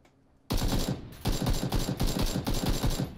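Automatic gunfire from a video game opens abruptly after a short quiet lead-in, then rattles in loud, dense bursts with a brief gap before resuming and continuing steadily.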